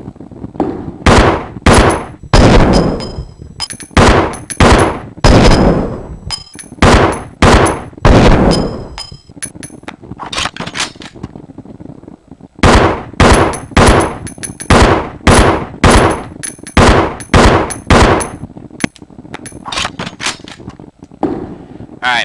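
A custom handgun in Resident Evil Zero fires in quick clusters of sharp, loud shots with short gaps between volleys, each report crisp and close, and a voice talks at times.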